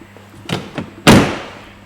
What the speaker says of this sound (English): So I'll just shut that door for a minute,